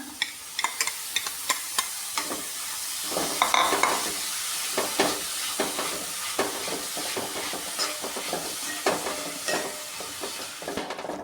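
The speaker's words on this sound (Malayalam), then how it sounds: "ഇട്ട് കൊടുത്തിട്ട് നന്നായിട്ടൊന്ന് ഇളക്കി ഒന്ന് യോജിപ്പിക്കുകയാണ്" Crumbled paneer is stirred in a frying pan, giving quick, repeated scraping and tapping strokes over a constant hiss of frying, close and moderately loud, with no voices.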